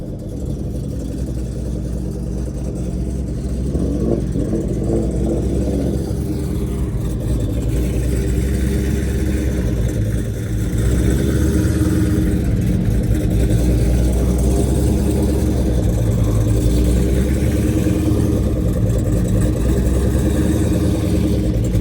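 A car engine fitted with an Arrington camshaft and a changed muffler runs with a deep, lumpy rumble, holding near idle and then rising to a louder, heavier drone partway through.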